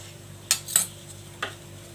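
A knife cutting crisp papad lentil wafers for bhaji, three sharp clicks and snaps on a hard surface, two close together and a third a moment later, over a faint background hum.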